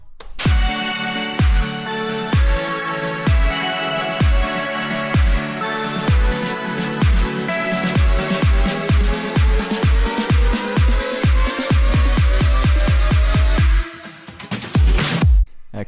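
Electronic build-up, loud and dense, with a pounding kick layered with hats and claps, bright sustained synth chords and a rising sweep that swells toward a final drop-out.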